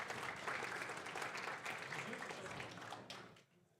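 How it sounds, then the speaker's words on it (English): A crowd applauds steadily for a few seconds, a warm wash of clapping that fades out at the end. "Big applause for him."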